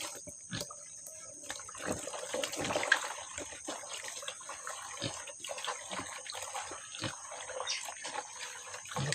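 Water flows and trickles steadily, a faint continuous splashing patter heard close by without talk.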